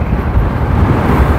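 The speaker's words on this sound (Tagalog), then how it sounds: "Grabe, lakas ng hangin." Strong wind roars and buffets the microphone in a loud, continuous low rumble.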